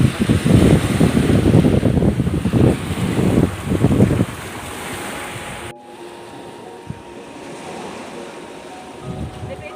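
Rushing ocean surf at Malalayang Beach with heavy wind buffeting the microphone, loud at first and then fading to a quieter, steadier wash.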